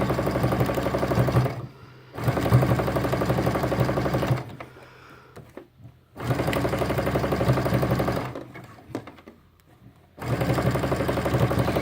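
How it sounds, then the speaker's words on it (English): Sewing machine stitching down the center of an elastic casing in a gathered garment, with several loud sustained runs of motor whirring broken by short pauses and quieter handling, up close. "I am just going to sew right down the center of that casing"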